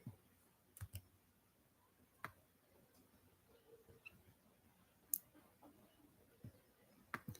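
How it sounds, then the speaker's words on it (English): Computer mouse clicks while working in a design app, a handful of faint, sharp, isolated clicks spaced unevenly over a quiet room background. "Let me right click to have access to."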